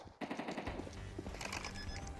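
Rapid automatic gunfire in Counter-Strike on the Dust2 map, a dense burst of close shots with a few sharper cracks, loud and continuous for about two seconds.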